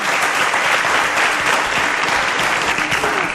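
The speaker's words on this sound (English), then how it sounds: "A round of applause for Aminu." Studio audience on a quiz show applauding for a contestant, a dense, steady round of clapping at full volume throughout with no talk.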